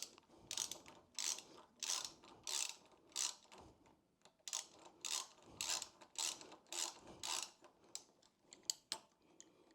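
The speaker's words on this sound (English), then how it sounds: "I am going to get that all nice and tightened up with an 8mm socket." An 8mm socket ratchet clicks in quick bursts of pawl ticks, near and fairly quiet, as it tightens the spring mount bolt of a springer seat kit on a Triumph Bobber motorcycle, with short pauses between strokes.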